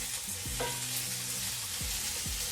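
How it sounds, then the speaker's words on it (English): Salted food sizzles steadily in a pan while a utensil scrapes through it in a few sweeping strokes, loud and close with no talking. "I'm just going to give those a stir and start them on their way."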